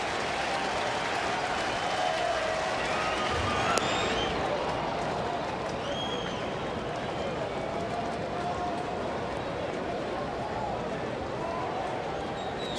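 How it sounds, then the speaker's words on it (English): Steady roar of a baseball stadium crowd cheering during an Arizona at Cincinnati game, a dense continuous wash of noise with a brief louder swell, filling the whole stretch without break. "This crowd trying to feed Johnny some extra adrenaline."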